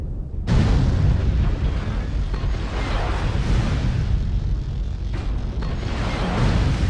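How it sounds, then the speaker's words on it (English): Artillery strike explosions in a combat video game, a dense, sustained rumbling barrage of booms starting abruptly and rolling on loudly throughout, with a brief dip and renewed blasts near the end. "Artillery strike activated."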